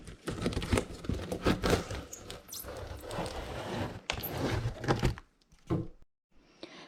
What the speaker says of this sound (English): let's open the box and see what the Mako Elite 2 actually looks like